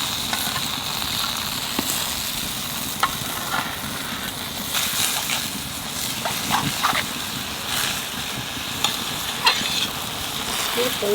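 Young home-grown greens being stirred in a hot pan with small fresh river fish, a steady sizzle and frying hiss under repeated scraping and clinking of the spoon, close and clear.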